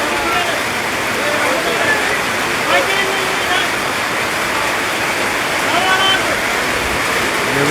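Heavy rain pours steadily over a village, a dense continuous hiss and patter of falling water that stays loud and unbroken throughout.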